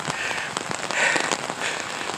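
Steady rain falls outdoors during a jog, a dense, even hiss of drops close by with slight surges, and no voices.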